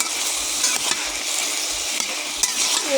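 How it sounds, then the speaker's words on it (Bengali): Ilish fish with turmeric and salt sizzles steadily in a hot pan while being stirred, with a continuous bright frying hiss and occasional soft scrapes, close up and with no talking. "এবার ভালো করে আমি নেড়ে দেবো"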